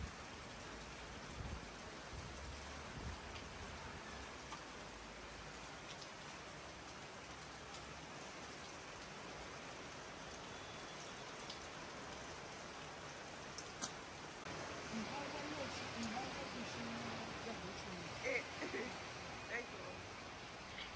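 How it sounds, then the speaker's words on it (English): Dense, continuous rain pours down steadily, a broad hiss of drops hitting surfaces all around, fairly soft and unbroken throughout. "let's enjoy the downpour"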